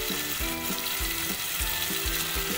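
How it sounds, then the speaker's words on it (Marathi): Masala with red chili powder fries in hot oil for a halwa fish curry, a steady close sizzle broken by rhythmic scraping strokes of stirring, with no voices. "आता मस्त मसाला भाजून घेऊ।"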